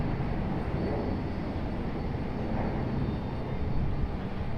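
An airliner landing at Raleigh-Durham International Airport gives a steady, dense roar of engine and airflow noise that holds for several seconds with little change, heard from a distance.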